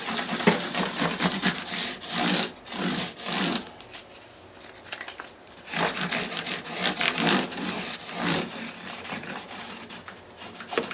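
A file is drawn across guitar frets in repeated rasping strokes, with short pauses between bursts of scraping. The strokes sound close and moderately loud.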